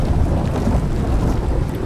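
Stormy weather in the Icarus survival game: a steady, loud roar of wind with low rumbling like thunder, continuous for the whole stretch and without any speech.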